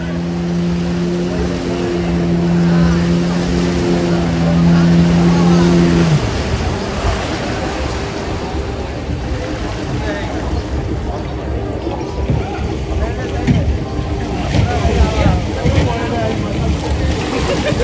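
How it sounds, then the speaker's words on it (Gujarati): A motorboat engine drones loudly, its steady hum dropping in pitch after a few seconds, then continuing as a rougher churn with wind and water noise. "બોટ આવે હો ઉડિયાની બોટ આવે છે"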